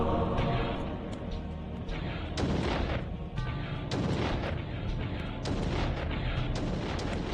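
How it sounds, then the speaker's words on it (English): Enemies in Blood Omen: Legacy of Kain hurl magic missiles, heard as a rapid series of loud, sharp blasts and crackling bursts over a constant heavy rumble. "We got some enemies up here throwing magic missiles at us"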